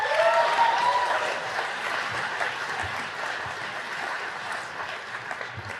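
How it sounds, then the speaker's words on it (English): A graduation audience applauds the graduating class, a broad sustained sheet of clapping from a large crowd that slowly eases off, with a faint voice briefly audible near the start. "So give a round of applause for yourself."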